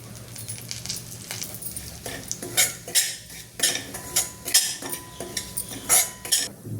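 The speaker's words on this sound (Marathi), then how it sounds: "हा थोडासा रवा आहे, आपण भाजून घेऊ।" Semolina roasting in ghee in a pan, stirred with a metal spoon in repeated scraping and clinking strokes over a faint low hum, close and unaccompanied by speech.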